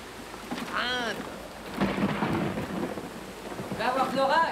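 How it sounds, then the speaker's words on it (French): A thunderstorm rumbles with rolling thunder over steady rain, the noise swelling in broad waves across the stretch, with faint bird-like chirps rising at the start and end. "Il va avoir de l'orage."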